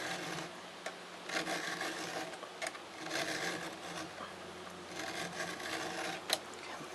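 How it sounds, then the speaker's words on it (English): A file rasps across the steel cutter of a chainsaw chain during sharpening. The strokes are close and repeated, each a gritty scrape, with short breaks between them. "You can see all the shavings coming off on the file."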